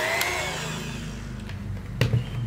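An electric hand mixer whirs steadily through plum cake batter, a continuous motor drone with a couple of brief louder bumps near the end, close and alone.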